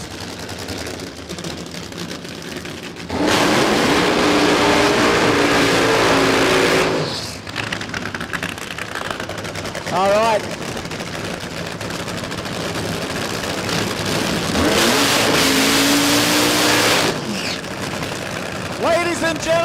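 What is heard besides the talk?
Nitro funny cars firing up and revving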